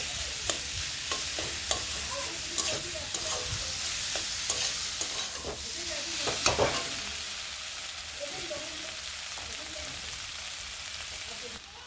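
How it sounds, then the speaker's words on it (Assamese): Potatoes frying in a pan with sour tenga leaves for an Assamese fish curry, a continuous close sizzle broken by repeated clacks of a spatula stirring. "এতিয়া মই আলুখিনি টেঙাৰ পাতৰ সৈতে ভালকৈ ফ্ৰাই কৰি ল'ম 2 পৰা 3 মিনিট টাইম"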